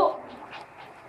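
A dog pants in quick, soft rhythmic breaths, faint and close, with a few repeated puffs across a short moment.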